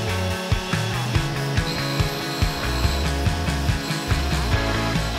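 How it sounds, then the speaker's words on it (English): A grinding machine works an engine valve shim for an Aston Martin V8 cylinder head, a steady loud mechanical drone with regular light knocks and scraping contacts repeating throughout, with no talking. "We'll bring the shim up to the grinding wheel and then just kiss the face of it to know where we need to start from."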